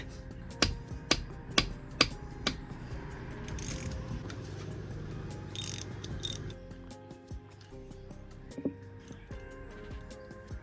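A ratchet wrench breaks loose tight 14 mm bolts on a Nissan 350Z differential cover, giving sharp metallic cracks and clicks in a quick series early on, then scattered ratcheting and clanks in a workshop.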